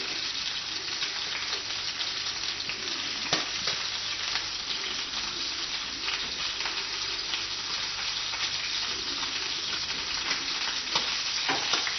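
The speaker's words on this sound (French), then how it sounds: "C'est vraiment pour lui donner un petit coup de chaleur, un petit coup de grillé." Scored duck breast sears in a hot pan with a steady, close sizzle and crackle, broken by occasional louder pops and spits.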